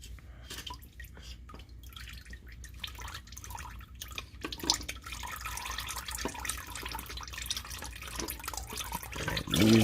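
Engine oil draining from a 2016 Toyota Prius into a drain pan, a steady trickling drip that continues close by under faint background noise, with a clunk near the end.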